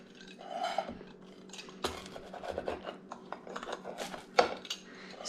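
A knife cuts through the crispy crust of a same-day pizza made from bread flour and 00 flour, giving close, crunchy scraping strokes with sharper clicks of the blade against the pan, and no talk.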